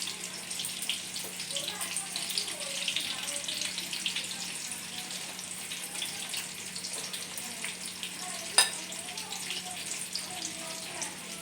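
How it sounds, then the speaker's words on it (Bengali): Chicken pakoras frying in hot oil, a continuous soft sizzle and bubbling crackle at close range, steady throughout with one brief louder clatter near the end. "তারপর উল্টে দিয়ে বাকি সবগুলো ভেজে নিই"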